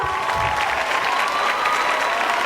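A school gym audience at a middle school farewell ceremony applauds its staff, a dense, steady roar of clapping from a large crowd that stays even and loud throughout, with faint cheering mixed in.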